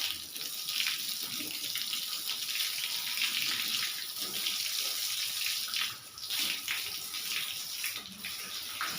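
Water sprays steadily and loudly onto a cow being wetted down before soaping at its daily bath, a continuous hissing gush that carries on alone without pause.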